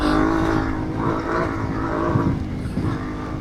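A CFMOTO 450MT adventure motorcycle runs steadily along a bush trail, its engine note droning continuously and close with mild swells in revs and wind noise throughout.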